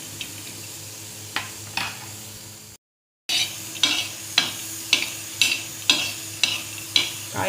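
Something dry-roasts in a pan until its skins start to loosen, with rhythmic scraping stirs at about one stroke per half-second, a brief silent gap, then more regular stirring strokes.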